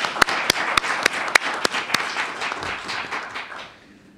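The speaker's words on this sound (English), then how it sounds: "Let's give them a round of applause for their effort." A debate audience applauds steadily, with a few sharp, loud claps standing out early before the clapping thins and fades away.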